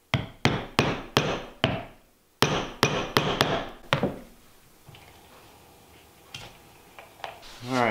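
A hammer drives a metal punch down through thick layered material, landing a quick run of four sharp, loud, ringing strikes, then after a pause five more, before fainter handling knocks follow.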